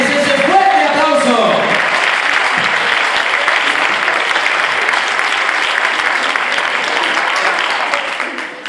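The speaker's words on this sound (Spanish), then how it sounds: "Vamos a darles ese fuerte aplauso." Audience applause after a jazz funk cheerleading dance set to Madonna at a dance festival in Aranjuez, loud dense clapping with some voices calling out early, sustained then fading at the end.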